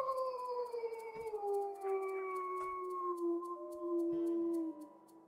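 Wolves in the video game WolfQuest give long sliding howls, several voices overlapping in a steady chorus that slowly drops in pitch and fades out near the end.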